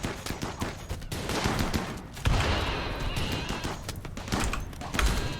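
Gunfire in the game RimWorld during a desert battle, with dense bursts of rapid shots and thumps running continuously at moderate loudness, with no talk over them.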